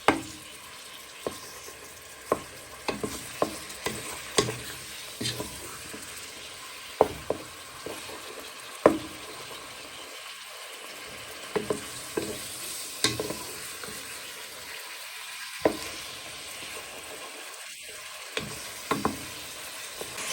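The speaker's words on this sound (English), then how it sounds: "So as all meat and onions and garlic are nicely cooking" Pork, onions and garlic fry steadily in a pan, a continuous close sizzle broken by frequent sharp scraping clicks of a utensil stirring, with a few brief quieter dips where the hiss thins out.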